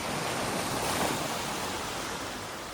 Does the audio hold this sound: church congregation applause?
no